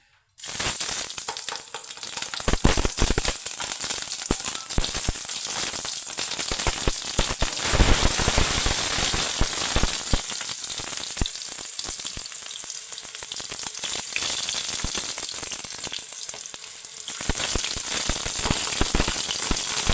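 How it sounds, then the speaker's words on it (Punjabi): Stuffed green chillies frying in fully heated oil, a loud, busy crackle and spatter that starts suddenly and keeps going almost unbroken, with sharper pops scattered through and no talking. "ਹੁਣ ਆਪਾਂ ਇਹਨਾਂ ਨੂੰ ਤੇਲ ਦੇ ਵਿੱਚ ਛੱਡਦੇ ਆਂ ਤੇਲ ਹੋ ਚੁੱਕਿਆ ਆਪਣਾ ਪੂਰਾ ਗਰਮ"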